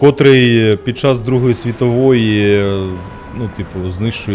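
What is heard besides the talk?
No everyday noises stand out.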